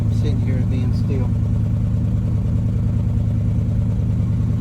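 A 1974 Chevrolet engine runs close by with a steady, low, throbbing rumble, and a brief voice sounds at the start.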